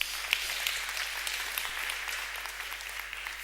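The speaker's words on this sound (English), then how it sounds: "Give a round of applause." Audience at a TEDx music talk applauding, a dense steady wash of many hands clapping that stays fairly even throughout.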